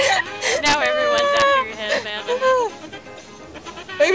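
Sheep in a video game bleat in wavering, whiny cries that rise and fall several times. The bleats are loud and close, then trail off into quieter scattered sounds.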